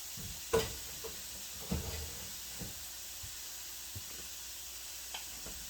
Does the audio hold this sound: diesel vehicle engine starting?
no